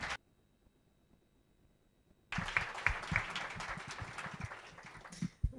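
An audience at a university lecture breaks into applause after near silence, the clapping starting abruptly and carrying on loud and steady to the end.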